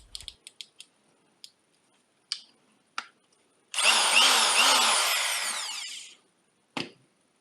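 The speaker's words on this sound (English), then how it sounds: "I have a new Evolution belt sander." An Evolution belt sander whirs loudly and close for about two and a half seconds, after a string of sharp clicks and taps, with a final tap once it stops.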